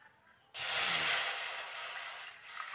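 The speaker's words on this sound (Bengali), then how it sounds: "এখানে আমি হাফ গ্লাসের মতো জল দিয়ে দিলাম।" Half a glass of water poured into a hot kadai for cooking katla fish sets off a sudden loud hiss that holds steady and close for a couple of seconds, then slowly eases, with no voices over it.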